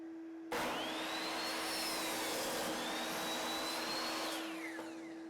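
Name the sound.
miter saw cutting 45-degree angle in scrap 2x4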